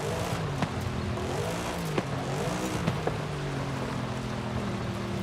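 A 2011 Mercedes-Benz SLS AMG with a naturally aspirated 6.2-litre V8, driven in Forza Horizon 5, holds a loud, steady drone with slight pitch swells and a few sharp clicks, probably gear shifts.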